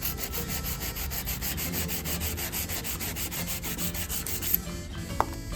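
Hand sanding of stainless steel trim with sandpaper, close and rhythmic, with quick even back-and-forth strokes that ease off near the end, followed by a couple of small taps.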